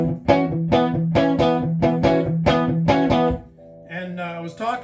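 Electric guitar played through a Fender Twin amp, strummed chords in a steady rhythm with punchy, bright attacks, then a short pause and a softer sustained chord near the end; close and loud with no talking.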